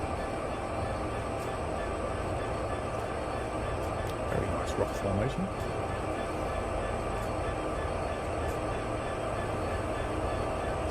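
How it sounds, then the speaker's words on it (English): Heavy freight train in Train Sim World 2 on Sherman Hill, a constant low rumble and rolling clatter across the whole stretch, with brief metallic clanks and a voice speaking over it. "So we've found our friend train."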